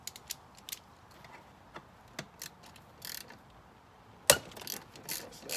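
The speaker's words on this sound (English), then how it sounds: "we'll go to the bolt on the side, which I use the T40 Torx" A ratchet with a T40 Torx bit works a side bolt on a 1988–91 Honda Civic EF hatchback, giving faint, irregular metallic clicks and ticks spread across the clip, with one sharper snap near the end.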